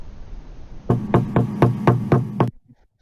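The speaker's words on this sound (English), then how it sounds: "There's a quiet knock at the door." A quiet knock at a bedroom door: a quick, evenly spaced run of about seven knuckle raps, close and fairly firm, after a near-silent room, then stillness.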